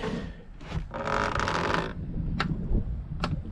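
A dry, scraping creak of wood grinding against wood on a homemade sheet-metal brake as it tips, a longer rub followed by a couple of short squeaky scrapes, fairly close and quiet.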